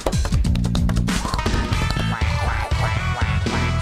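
Quacking in a Pizza Tower voiceover mod is mixed into dense game music and impact effects, with quack calls coming in quick succession and partly buried in the mix.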